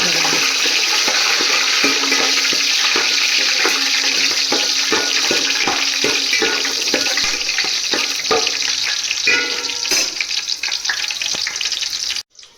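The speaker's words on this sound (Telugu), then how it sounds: "నూనె వేడెక్కింది, వేడెక్కినాక ఈ దినుసులన్నీ వేసుకోవాలి" Whole spices dropped into hot oil for mutton biryani rice crackle and sizzle loudly and steadily, a dense bubbling hiss with small pops, stopping abruptly at the end.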